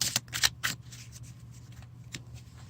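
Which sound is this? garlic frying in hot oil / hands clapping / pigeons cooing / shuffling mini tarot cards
shuffling mini tarot cards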